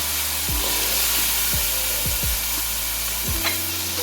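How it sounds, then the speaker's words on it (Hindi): Peas and tomatoes with spices stir-fry in a pan for matar pulao, a constant close sizzle with several low scraping thumps from stirring, and no talk. "अब इसको मटर को अच्छी तरीके से इसमें भून लें"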